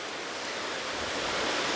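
A river rushes near Hraunfossar and Barnafoss waterfalls in Iceland, a loud, steady, close roar of churning water that fills the clip evenly with no talking.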